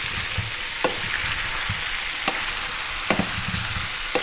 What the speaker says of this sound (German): Ich lasse das ein paar Minuten einfach anbraten.